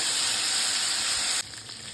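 Tomato paste hits hot oil already holding bay leaf, whole cumin and whole garam masala, giving a loud, close hissing sizzle for about a second and a half before it abruptly drops to a quieter simmer.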